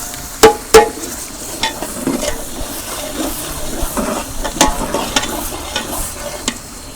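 Tomato paste sizzles and fries in a pot for chicken dum biryani, a soft steady hiss broken by sharp clacks and scrapes of a spoon stirring against the metal.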